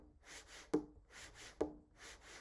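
Hand drum strokes played at double time, quiet and close, with soft brushing taps and two sharper accented hits in a quick, steady pattern.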